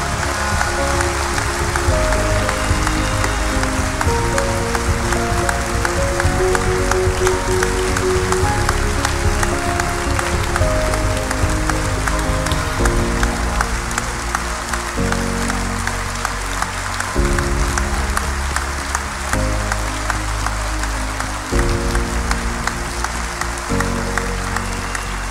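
Applause from a crowd at a French political gathering honoring party members, sustained for a long stretch under loud music with a steady beat.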